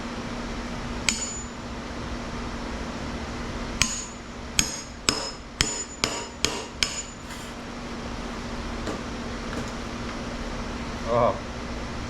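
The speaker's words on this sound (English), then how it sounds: "We get a little hammer." A small hammer strikes an old scrapyard fan, a few scattered taps and then a quick run of about six sharp metallic knocks over a steady hum, with someone talking.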